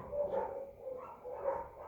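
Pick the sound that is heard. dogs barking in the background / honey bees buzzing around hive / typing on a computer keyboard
dogs barking in the background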